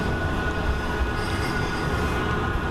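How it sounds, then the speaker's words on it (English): Trams rolling through Manchester streets, a steady close rumble of rail wheels with a faint squeal, moderately quiet and without talk. "And we got a backlog of trams going here."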